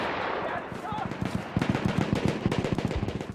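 Heavy field gun in Battlefield 1 pounding out rapid repeated blasts that grow denser and louder after the first second, with a clattering burst of shots over a noisy battlefield background.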